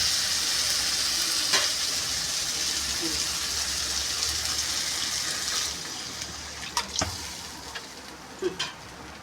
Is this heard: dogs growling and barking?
no